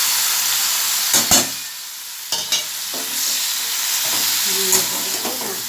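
Ridge gourd frying in a pan with salt and turmeric, a steady close sizzle broken by several sharp clatters and scrapes of a spoon stirring the pieces.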